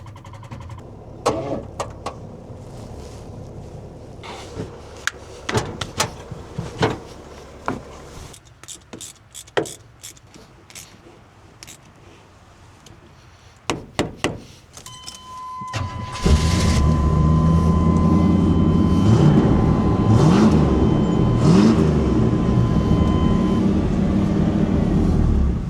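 A big block car engine parked for years clicks and cranks in scattered bursts, then fires and settles into a loud, rough, continuous run with a steady whine, close by.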